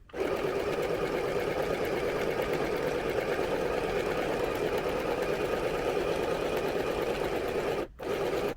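A sewing machine stitching fabric at a first attempt at sewing, running in one loud, steady, close whir for about eight seconds, with a brief stop near the end before starting again.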